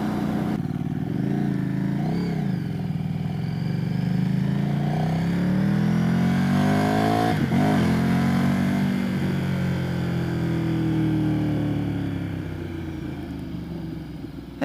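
A Geo Prism car driving past with a worn engine blowing blue smoke, a loud steady engine drone whose pitch rises and falls as it passes, with other traffic noise around.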